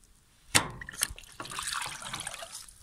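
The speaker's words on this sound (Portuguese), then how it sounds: "Saiu água." Water gushes and splashes out of the drain filter of an LG washing machine showing an OE error, starting with a sharp clack and then a steady trickling pour nearby.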